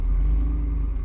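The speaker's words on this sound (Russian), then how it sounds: "давайте заводим нашу тачку" A low, steady car engine rumble idling close by in the driving game City Car Driving, deep and continuous with no other sounds.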